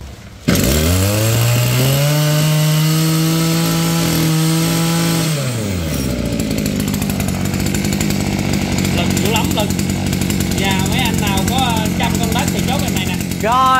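A used Japanese Robin 38 mm brush cutter engine starts up, revs hard and holds a loud, high whine, then drops to a rough idle. A person talks over the idling engine near the end.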